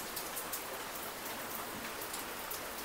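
Heavy rain pours steadily outdoors near a gate where a motorbike has just been brought out, a dense, continuous hiss with scattered louder drop impacts and no voices.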